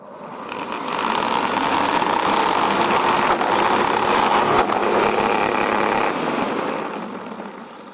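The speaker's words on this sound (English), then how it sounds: "So start the motor." A Grunman TE-1000-2Q electric grass trimmer, a 1000 W, 230 V AC tool, runs its motor with a steady, loud, high-pitched whine and buzz that holds evenly for several seconds before winding down.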